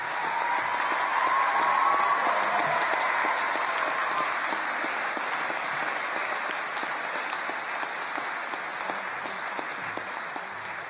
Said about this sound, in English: I think that was the loudest applause we've had since lunchtime